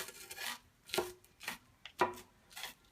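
An onion is chopped finely with a knife on a board, a series of about five soft, distinct cuts at an uneven rhythm, close but faint, no voices.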